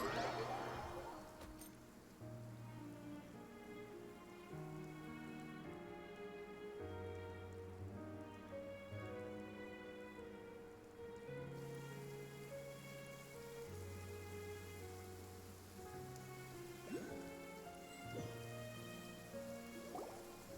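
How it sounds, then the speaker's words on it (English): Rain falls in the video game Genshin Impact, a soft, steady patter beneath a calm, prominent musical score, quiet overall. "It's been raining non-stop for a few days now."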